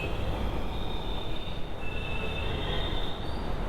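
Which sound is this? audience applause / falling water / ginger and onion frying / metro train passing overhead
metro train passing overhead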